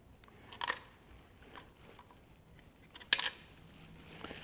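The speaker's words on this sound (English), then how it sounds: "Conrod bolts are dropped." Two bright metallic clinks a few seconds apart as connecting rod bolts from a Massey Ferguson 65 tractor engine are dropped, each a short ringing hit against a quiet workshop background.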